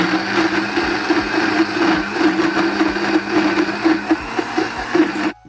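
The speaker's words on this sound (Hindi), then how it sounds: "थोड़ा सा दूध डालेंगे और इनको अब ग्राइंड करेंगे।" Electric blender grinds almonds with a splash of milk for almond halwa, a loud continuous whirring motor with slight fluctuations as the mixture churns, cutting off abruptly at the end.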